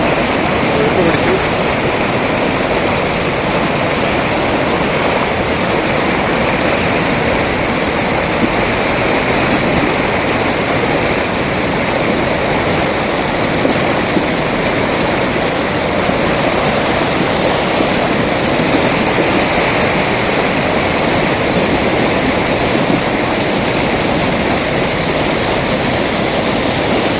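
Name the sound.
Kaliyar river water rushing downstream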